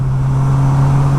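A Polaris Slingshot droning steadily up a mountain road, its engine a loud, constant low hum with no pauses or shifts in pitch.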